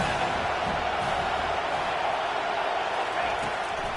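Football stadium crowd at a Georgia Tech vs North Carolina game roars steadily behind the defense before a big third down, a dense, sustained wash of cheering and noise with no letup.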